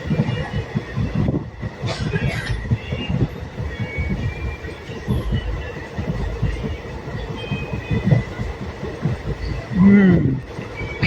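A passenger train between Veraval and Bhavnagar runs along the rails with a steady rumbling roar and rattling wheel clatter, heard from on board, with a few brief squeals and a short voice near the end.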